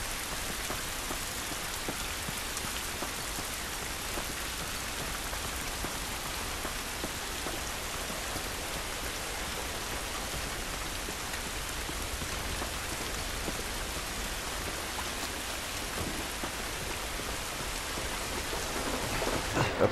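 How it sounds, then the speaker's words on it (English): Steady, dense rain pours outdoors in The Last of Us Remastered, a constant even hiss of drops on surfaces lasting throughout, with no voices. "This rain ain't gonna do us any good."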